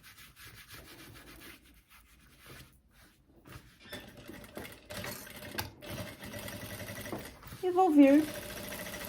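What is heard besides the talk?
sewing machine stitching a faux leather skirt seam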